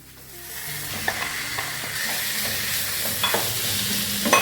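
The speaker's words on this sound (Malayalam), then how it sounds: "ശേഷം മൂത്ത് നമുക്കിനി ചിക്കൻ ഇടാം." Chicken coated in turmeric, salt and masala stir-frying in a pan for Kerala chicken thoran, a loud continuous sizzle broken by repeated spatula scrapes and taps.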